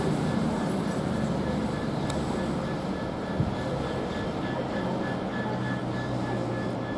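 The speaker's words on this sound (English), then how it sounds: "CrossCountry Voyager." A CrossCountry Voyager diesel unit, 220028, stands at Doncaster station with its engines running, giving a steady broadband rumble and hum that stays loud and even throughout, with a faint voice briefly in the background.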